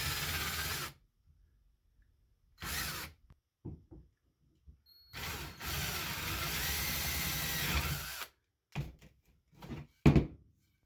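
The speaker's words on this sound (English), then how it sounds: "angle your drill bit and drill into the wood" Several bursts of a power drill whirring at an angle into wood while making an atlatl, short and long runs separated by pauses, close and fairly loud with clunks between.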